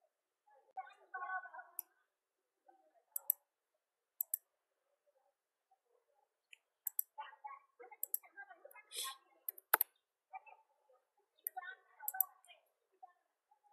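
Sharp mouse clicks in statistics software, several scattered single taps over roughly fourteen seconds, close and crisp, with a person talking quietly between them.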